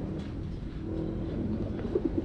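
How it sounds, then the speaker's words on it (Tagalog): Racing pigeons in a loft cooing, a few soft low throaty coos near the end over a steady background murmur, close by and without speech. "Ito ako ng pinakamahal na kalapati sa buong mundo, si New Kim."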